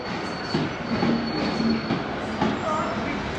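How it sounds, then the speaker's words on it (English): A train rumbles steadily with rail noise and faint high squeals, a continuous mechanical drone with no speech over it. "Wow, there's loads of trains to London."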